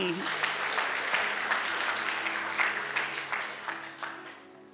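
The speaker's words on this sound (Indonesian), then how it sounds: "Sorak-sorai untuk Tuhan." Church congregation at a Sunday worship service cheering and applauding together, a dense sustained wash of clapping and shouts that gradually tapers off toward the end.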